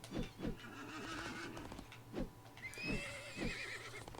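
Horse whinnies from the video game Disney Infinity repeat with quick hoof clops in a lively, game-like pattern, several short neighs rising and falling over a soft background hum.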